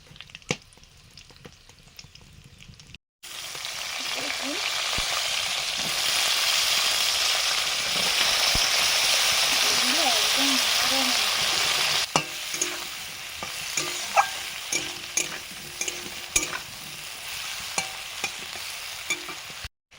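Black cumin seeds crackle and sizzle steadily in hot oil in a home kitchen pan, a loud continuous frying hiss that starts abruptly after a quiet opening, with occasional stirring clicks and taps toward the end.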